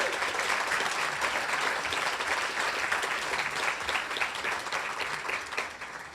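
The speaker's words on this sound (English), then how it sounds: "If you could please give them a round of applause." A crowd at a young professionals awards show gives sustained applause for its sponsors, a thick, even roar of many hands clapping that holds for six seconds before easing slightly.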